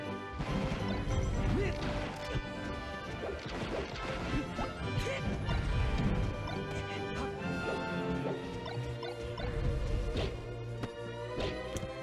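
Fox and Link trading attack hits in Super Smash Bros., a busy stream of sharp cracks, smacks and whooshes over constant game music and crowd-like ambience.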